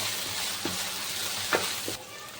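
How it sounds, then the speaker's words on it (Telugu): Ginger-garlic paste fries in hot oil for a raw mango and country crab curry, giving a steady close hiss with a few soft stirring taps. "ఈ విధంగా ఫ్లేమ్లో అల్లం వెల్లుల్లి వేగుతుంటే రూమ్ అంతా"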